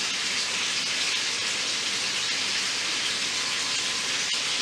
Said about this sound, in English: I'm just searing it. It's not cooking throughout.